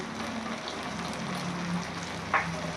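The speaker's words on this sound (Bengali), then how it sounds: "এবার পুরো টক দইটা আমি দিয়ে দেবো।" Whisked sour yogurt hits a hot pan of pabda fish, giving a steady, close hiss and crackle of frying throughout, with one brief clink near the end.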